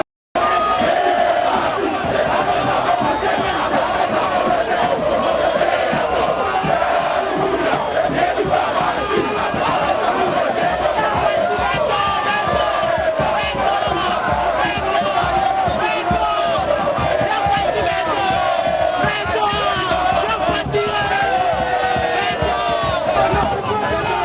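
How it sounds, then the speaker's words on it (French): A large crowd roars, cheers and chants loudly and without pause as Félix Tshisekedi and his wife Denise arrive at a welcome ceremony in Grand Équateur, with voices shouting over the din. "sous une salve d'applaudissements, des chansons et des cris de joie"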